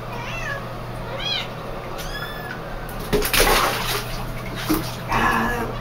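A kitten being bathed in warm water in a tub gives several short, high, plaintive meows one after another, followed by louder bursts of splashing water.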